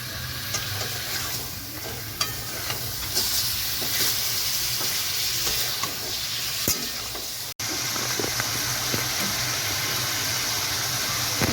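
Skin-on chicken pieces are stirred and fried in hot oil, giving a steady sizzle with scraping and stirring clatter throughout and a brief sharp break midway.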